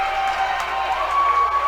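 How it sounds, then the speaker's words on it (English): A Thunderhawks basketball crowd cheers loudly in a gym late in an overtime game, a dense sustained roar with a whistle-like tone cutting through. "And the Thunderhawk crowd is going crazy."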